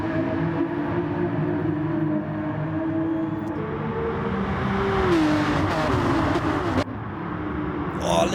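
Porsche SuperCup race car in a sim racing game at Circuit de Sainte-Croix, engine droning and rising in pitch with a squealing tyre-slip tone sweeping under it, while a commentator talks over the racing.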